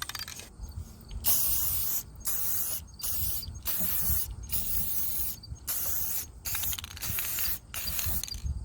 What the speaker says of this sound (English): So we're going to go ahead and spray paint it.